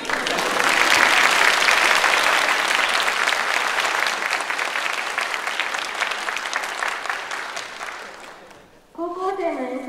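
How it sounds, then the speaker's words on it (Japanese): Audience at a high school joint concert applauding for an encore, loud sustained clapping that tapers off, followed by a voice speaking. "拍手にお応えしてアンコールを演奏します。"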